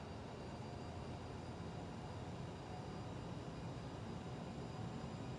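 An airliner's engines spooling up for takeoff in a flight simulator, a steady broadband roar with a faint high whine, continuous and even throughout.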